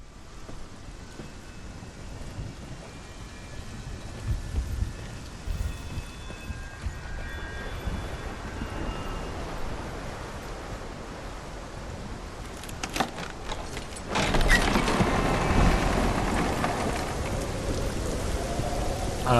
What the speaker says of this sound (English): Let's go through this really loud storm together